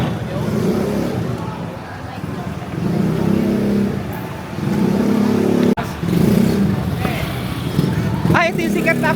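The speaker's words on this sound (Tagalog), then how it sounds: "Daanan kasi din niya ng kotse." Cars roll along a busy street in Binondo, Manila's Chinatown, a steady loud traffic rumble with engines swelling and easing in waves, while people talk nearby.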